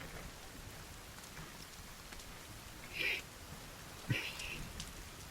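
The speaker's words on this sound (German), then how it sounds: "Es regnet." Steady rain in the video game The Forest patters on a surface in a constant hiss, with a couple of brief louder splashes and thumps standing out.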